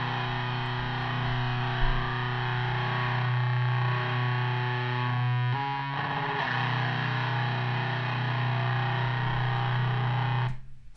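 Distorted rhythm guitar captured through a condenser microphone while recording a song, a bright, full sustained chord ringing steadily with a brief strummed change in the middle, loud and close, then stopping abruptly near the end.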